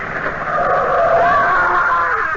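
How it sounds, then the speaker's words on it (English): A car approaches as a radio drama sound effect, a loud engine swelling and holding steady with a whining, slightly skidding tone, continuous and close, heard through narrow old-radio bandwidth. "Lamont, watch out, there's a car coming"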